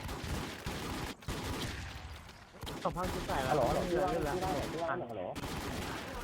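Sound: gunfire in the video game Retrospect

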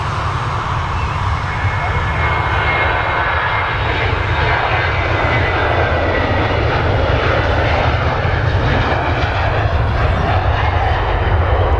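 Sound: Jet2 Boeing 737 jet taking off at Manchester Airport

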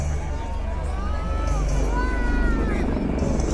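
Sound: Mi-24 military helicopters flying over training ground

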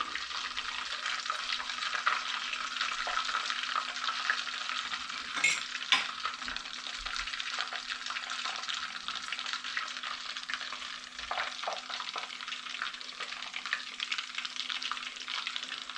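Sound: Scotch eggs frying in oil

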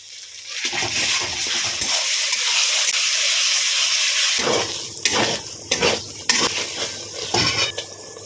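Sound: frying onions with onion, ginger, garlic and green chili paste

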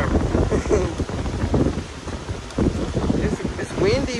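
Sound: wind

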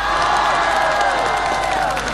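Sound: audience applause at a concert

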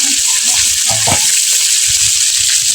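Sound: eggplant frying

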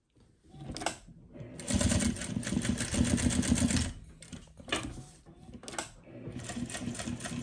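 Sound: heavy duty machine running

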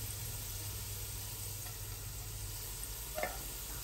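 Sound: onions frying golden brown on high flame

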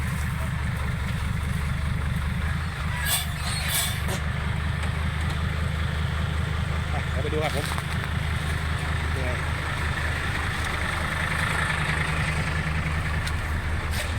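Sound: tractor engine idling before clearing the track

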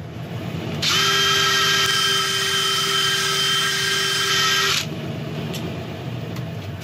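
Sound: drill with scotch pad sanding laburnum wood surface

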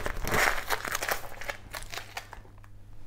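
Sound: tape being peeled off a guitar rosette

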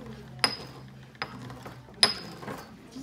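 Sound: grinding old pastel chunks with a pestle

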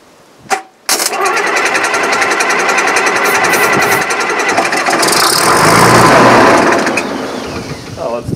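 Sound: Case 1150 dozer engine running

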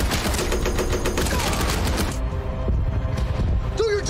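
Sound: gunfire and machine gun fire in the tank war movie Fury

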